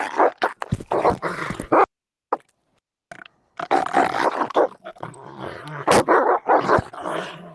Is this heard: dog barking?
yes